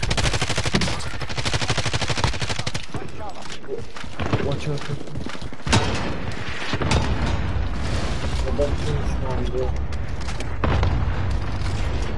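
Rapid automatic gunfire and booming shots in the Warzone battle royale game crackle almost continuously, with bursts of fire mixed with explosions while a player talks excitedly over it.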